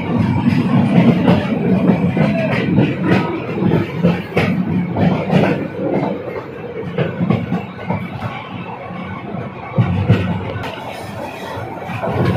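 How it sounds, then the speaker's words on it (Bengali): Burimari Express passenger train running over the new Jamuna bridge line, heard from inside a carriage: a steady loud rumble with rhythmic wheel clatter and rattling throughout, no talk. "আমরা যাচ্ছি নতুন লাইন দিয়ে, যেটা নতুন যমুনা সেতু করা হয়েছে, ওইটার উপর দিয়ে আমাদের ট্রেনটা চলছে"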